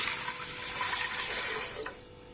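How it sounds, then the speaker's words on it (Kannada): Water pours steadily into a pot for a rice sendige batter, a continuous close splashing stream that tapers off near the end. "ಈಗ ಇದಕ್ಕೆ ನೀರು ಹಾಕ್ಬೇಕು."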